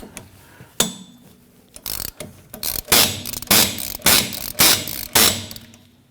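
Wrench ratcheting as it breaks loose the wheel hub bolts on a 2017-2020 Hyundai Elantra during rear wheel bearing work, a series of loud repeated clicking bursts at close range.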